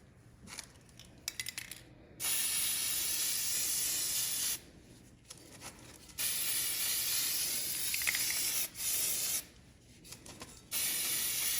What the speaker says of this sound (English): I'm gonna just put a quick light coat on it